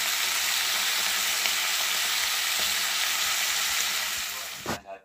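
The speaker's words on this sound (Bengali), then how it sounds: "আমি ভাজাটা ভেজে নিই।" Fritters deep frying in oil in a black wok, a dense, even sizzle close up that holds steady before fading out with a brief clatter at the end.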